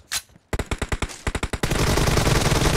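Gunfire in the video game PUBG: a single shot, then a rapid burst of about a dozen sharp automatic-weapon cracks, followed by a dense continuous roar of fire, loud and close with no talk.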